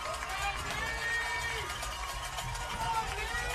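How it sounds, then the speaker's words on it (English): Home Cougar crowd at a high school football game between Ada and Poteau, a steady roar of cheering and noise from the stands with an announcer talking over it throughout. "Boy, the Cougar crowd getting into it. Getting a little noise there."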